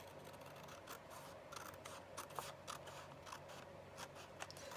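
Scissors cutting paper along a line up to a crease, a series of quiet close snips and crisp clicks in an uneven rhythm over faint background noise.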